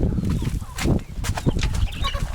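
Several chickens on a dairy farm cluck loudly and continuously nearby, overlapping calls with a bit of rustling, no one speaking.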